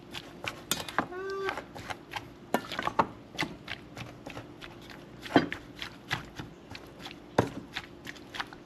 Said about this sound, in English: I am just gonna use my spoon to stir it around a little to mix all this up